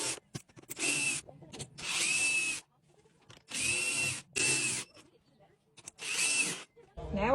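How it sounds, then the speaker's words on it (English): Power drill tightening the four corner bolts on a new RV air conditioner, running in five loud whirring bursts of about a second each, with brief pauses between them. "let's go ahead and tighten up these 4 corner bolts."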